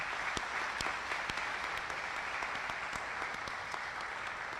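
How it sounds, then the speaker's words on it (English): A crowd at a Class of 2026 commencement ceremony applauds steadily, dense clapping with a few sharper individual claps standing out, moderately distant and sustained throughout. "please join me in thanking your loved ones with a round of applause"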